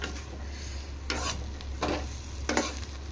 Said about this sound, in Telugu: ఈ పొడి వేసుకొని ఇది 2 మినిట్స్ అలా ఫ్రై చేసుకోవాలా